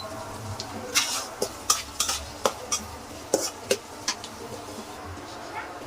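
Onions fry in a pan with a soft steady sizzle while a spoon scrapes and clinks against the metal in irregular sharp strokes, close and fairly quiet.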